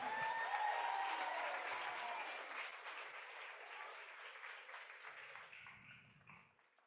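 Clapping and cheering for an athlete at an online virtual qualifier competition, a quiet wash of applause that swells at first and gradually tapers, with a faint low murmur near the end.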